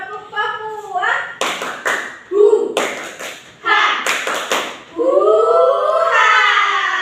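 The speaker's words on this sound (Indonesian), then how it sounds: "Tepuk Papua" Schoolchildren in a classroom performing the Papua clap chant, sharp bursts of rhythmic clapping and slapping alternating with loud group vocal calls.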